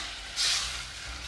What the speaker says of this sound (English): Right now the tomatoes are boiling